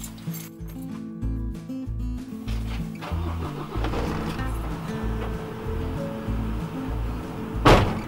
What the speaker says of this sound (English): let's turn the engine on in the van and see what happens